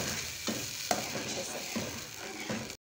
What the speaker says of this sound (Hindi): और इसे मैं फ्राई कर लेती हूँ तकरीबन 2 मिनट के लिए।